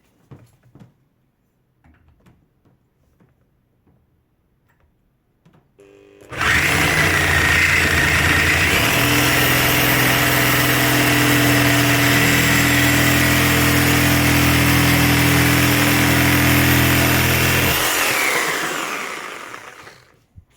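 A corded Parkside PPFS 1250 A1 sabre saw with a genuine Parkside blade at speed setting 6 cuts a 2mm metal profile, roaring loud and steady for about eleven seconds after a quiet start, then winding down.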